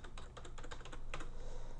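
A folder name is typed on a computer keyboard in a quick run of close, crisp key clicks with short gaps, heard alone and fairly quiet.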